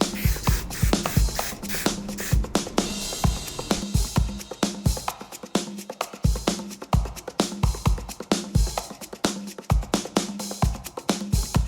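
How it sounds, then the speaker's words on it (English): A rapid series of short, hissing aerosol spray bursts, repeated steadily and close by, with faint shuffling handling noises between them. "go outside, spray the Reshoevn8r water and stain repellent"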